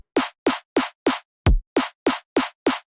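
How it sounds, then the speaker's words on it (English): Repetitive snare hits in a melodic dubstep intro: nine crisp, evenly spaced snares in a steady rhythm with one deeper, boomier hit in the middle, loud and isolated with no talking. "the first bars are basically introduced with these repetitive snares going on"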